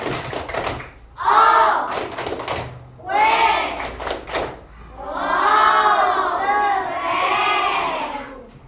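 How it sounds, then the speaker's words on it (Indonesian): A classroom of children cheers for a small group, with loud shouted chanting rising and falling in several bursts and a few claps near the start. "Aplaus untuk kelompok tulip ya, bunga tulip"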